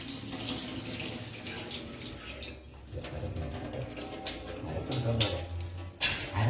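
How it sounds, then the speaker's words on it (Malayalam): Water drains and splashes steadily from grated potatoes being prepared for homemade Lays-style chips, a continuous close running-water sound like a tap pouring into a sink, with no talking. "വെള്ളം ഫുള്ള് കളയണം."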